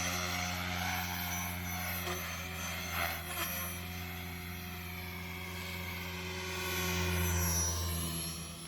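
A 3D freestyle RC helicopter, an Align 500, whines steadily near and loud, its rotor and motor tones holding strong and rising and falling with aggressive aerobatic maneuvers, with no talk.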